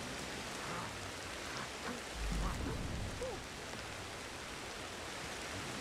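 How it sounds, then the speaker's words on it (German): Steady, dense rain in the video game Ancestors: The Humankind Odyssey, a continuous hiss with a brief low rumble partway through and faint creature calls underneath. "Regnet sowieso gerade."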